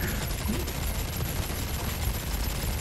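Minigun fire in Ark: Genesis, a sustained stream of rapid shots forming a dense, steady roar throughout, no speech.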